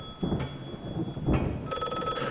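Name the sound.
thunder and rain in audio drama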